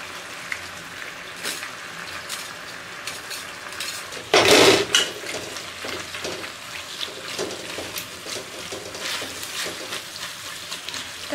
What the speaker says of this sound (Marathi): तर मी ते पास्ता टाकून घेतलेला आहे आणि व्यवस्थित आता मिक्स करून घ्यायचं आहे आपल्याला